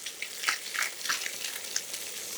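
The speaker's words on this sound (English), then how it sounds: "But I'm just going to cook this on the other side. So fish like this, it's only going to take about 2 minutes to cook." Fish fillet frying in a pan, a steady broadband sizzle with small crackling pops, close and fairly soft, continuous for a couple of seconds with no voices.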